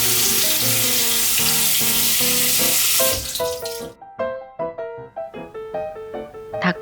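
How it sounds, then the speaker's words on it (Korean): A steady rush of cold running water pours for a few seconds, then stops, followed by clattering and sloshing as buckwheat noodles are rinsed and shaken in a sieve. "체에 받쳐 끓는 찬물에서 빠르게 씻어 전분기를"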